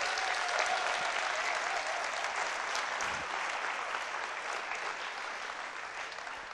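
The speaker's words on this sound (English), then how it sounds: "So I need a really great big round of applause for all of these fabulous sponsors" A big round of applause for sponsors at a startup competition event, sustained dense clapping from a large audience that holds steady for several seconds with a faint crowd murmur underneath.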